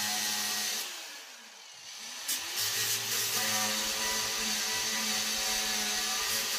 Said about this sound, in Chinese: 我们这个时候可以用角磨机给这个上面长的管子给它锯掉1公分左右